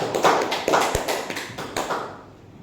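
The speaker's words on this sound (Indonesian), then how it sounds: "kasih tepuk tangan untuk kelompok" Students in a classroom clapping for a group, a brisk round of applause that starts strong and gradually thins out and fades to quiet.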